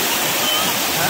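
A river waterfall pours in a dense, steady broadband roar, loud and continuous across the short moment, with no voices on top.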